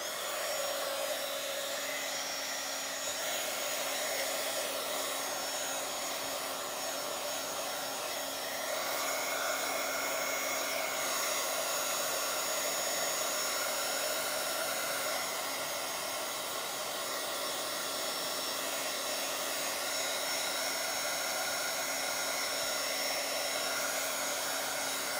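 A hair dryer blows steadily for about twenty-five seconds, drying paint on a Bible journal page, a constant close whooshing hum with a faint tonal whine and no voices.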